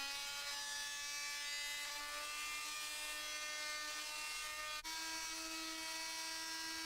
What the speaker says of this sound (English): I'm going to sand down a scrap of 2x4 with some fence stain or paint on it. I'm using the 60 grit pad